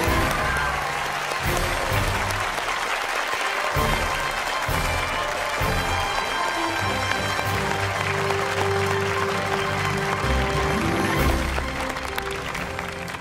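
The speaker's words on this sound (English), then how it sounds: "let's have a huge round of applause for our 2019 Child Genius winner" Loud, sustained applause from a studio audience for the winner of the 2019 Child Genius Australia final, with steady dense clapping that runs unbroken through the whole stretch and eases only slightly near the end.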